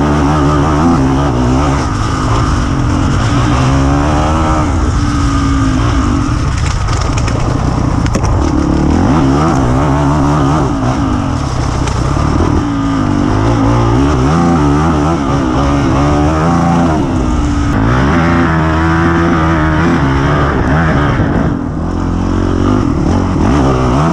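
A 450 XR trail motorcycle from an enduro test-ride event runs close and loud for the whole stretch. The engine drones steadily and rises and falls through repeated revs and gear changes, with no voices heard.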